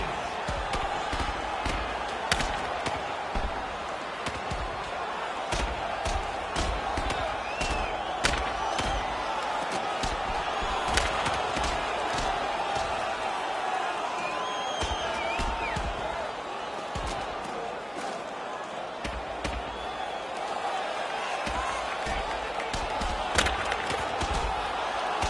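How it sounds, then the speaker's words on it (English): Punches land in a brawl between two big fighters in a PS4 video game, heard as repeated sharp thuds scattered over a constant, roaring arena crowd that fills the background throughout. "a couple of those punches you could hear"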